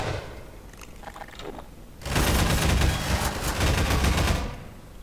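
Sustained pulse rifle gunfire in the video game Half-Life: Prospekt, a loud continuous burst of rapid shots lasting a few seconds after some scattered quieter game sounds.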